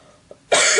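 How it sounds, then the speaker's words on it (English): A single harsh cough bursts out loudly and close after a brief quiet pause with a faint breath. "I have a really bad cough"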